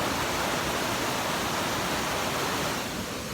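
Strong rushing water near a waterfall, a loud, dense and unbroken roar that fills the whole scene with no voices.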